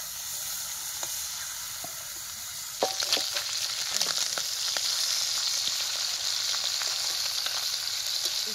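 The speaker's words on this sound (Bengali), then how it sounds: "এই দেখো একদম লাল লাল করে কালো ছাকা তেলে ভেজে নিয়েছি মাছ" Small fish fry in hot oil in a wok over a burning stove. A soft hiss grows suddenly louder into a dense, continuous sizzle scattered with sharp crackles and pops.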